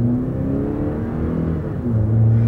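A truck pulling away from a stop in regular drive, its engine rising in a steady low rumble and whir that swells again toward the end, close and continuous with no talking.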